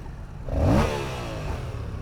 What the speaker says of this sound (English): Rev that up.